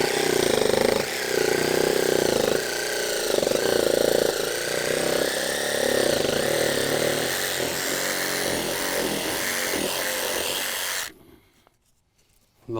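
A power tool drives timber lock screws into a shed frame, giving a loud, close, continuous whirring grind that labours in surges for about eleven seconds before stopping abruptly.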